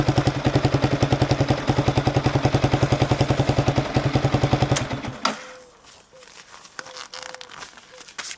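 A 2020 Yamaha MT 125 motorcycle engine idles loudly and close with fast, even pulses, then cuts off abruptly. A few quieter clicks and rattles follow in the near silence.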